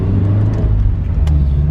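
A car drives steadily with a low, even engine hum and road rumble from inside the cabin, continuous and fairly loud.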